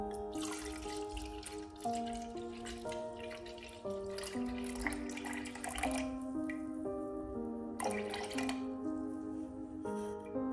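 Cooled turmeric water is poured through a strainer to separate out the pulp, giving close, soft trickling and dripping with small splashes and squishy wet sounds, alone without talk.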